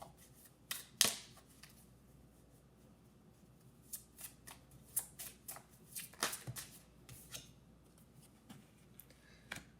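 Pokemon cards are shuffled for a reading, with quick riffling bursts and light flicks that come in clusters, close but soft, and no talking.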